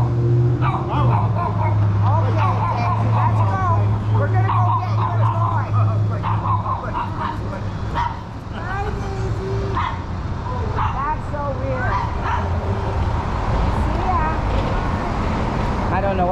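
A big dog barks and yips repeatedly on a city street in Vancouver's Downtown Eastside, loud and close, with passing car noise and people talking over it.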